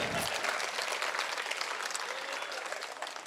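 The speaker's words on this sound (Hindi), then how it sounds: "ताली बजा के बताइए।" Audience applause at a Hindi poetry recital, a dense crowd of clapping hands sustained throughout, with a brief voice at the start.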